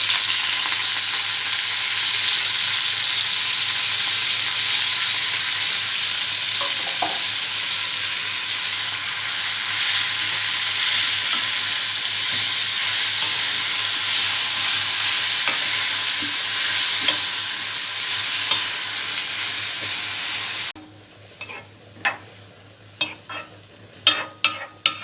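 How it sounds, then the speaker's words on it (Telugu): Sorrel leaves sizzle and fry in oil that already held dried red chilies, a constant crackling hiss with occasional stirring scrapes, then the sizzle cuts out near the end leaving sharp knocks of a utensil against the pan. "ఎండుమిర్చి ఫ్రై చేసుకున్న తర్వాత ఇదే ఆయిల్లో చుక్కకూరను ఫ్రై చేసుకోవాలి."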